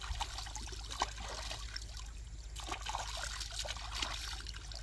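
Water is poured over a person to rinse off foul-smelling river mud and wash their shoes, giving a steady soft trickle and splash that is faint against a low background hum.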